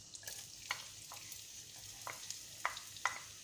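Shallot frying in hot groundnut oil on a gas stove, a soft steady sizzle with scattered light clicks and stirring scrapes, faint and close, with no talking.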